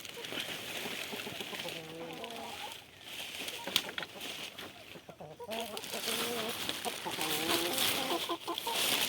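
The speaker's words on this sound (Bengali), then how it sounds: "আমি এখন আপনাদেরকে দেখাচ্ছি সব মুরগিগুলো খুলে" Desi hens cluck steadily inside a coop wrapped in sacking and plastic, with repeated close calls rising and falling, and a person talks over them.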